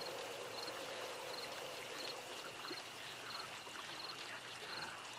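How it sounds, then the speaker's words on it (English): Water laps and washes gently in 7 Days to Die, a continuous soft rushing wash with faint regular chirps of insects or frogs in the background. "Weird little waves there."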